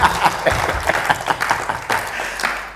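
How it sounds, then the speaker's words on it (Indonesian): A church congregation cheers and applauds for God during a worship service, a dense burst of clapping with scattered shouts, loud and close, lasting a few seconds. "Berikan sorak-sorai buat Tuhan."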